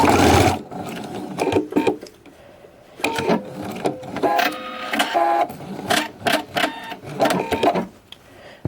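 A sewing machine stitches the curved seam of a Drunkard's Path quilt block in several short, close bursts of rapid needle chatter, separated by brief pauses.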